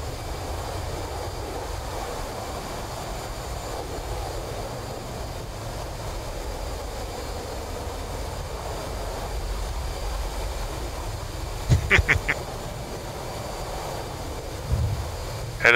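An aircraft engine drones during a Blue Angels CZ formation training flight, a steady loud broadband roar heard from on board, with brief clicks and bursts near the end and no talk.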